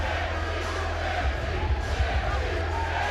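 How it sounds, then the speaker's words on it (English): A fight-night crowd at a Justin Gaethje vs Brian Foster bout roars on its feet, a steady dense wall of cheering and chanting voices with no clear breaks. "This crowd is on their feet. They are chanting Gaethje, Gaethje, Gaethje."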